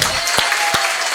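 A church congregation applauds and cheers in a loud, dense wash of clapping that fills the room, with a couple of sharper claps standing out near the front.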